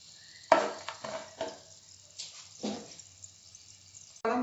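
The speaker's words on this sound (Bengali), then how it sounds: "বাদামগুলো ভাজা হয়ে গেছে। এবার আমি এগুলোকে তুলে নেব।" Fried peanuts are lifted out of hot oil while cooking lemon rice, with quiet sizzling and a few soft scraping, stirring scoops spread across the moment, faint and close.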